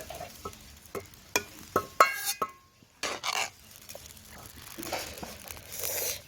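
Fried potatoes go into a pot of chicken curry and get stirred, a series of close scraping and clattering utensil strokes against the pot with a soft sizzle, fairly quiet, no talking.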